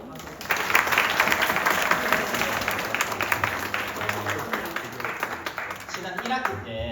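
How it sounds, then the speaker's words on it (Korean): Audience clapping in a church hall after a CPR and Heimlich lecture by a firefighter, rising quickly into sustained, moderately loud applause that gradually thins toward the end, with voices mixed underneath. "함께 도와주신 우리 민우 형제님 다시 한번 더 박수"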